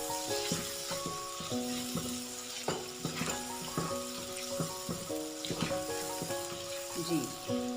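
A masala of onion and dry coriander cooks in a pan with a steady, fairly faint sizzle and occasional stirring clinks, while background music with sustained tones plays.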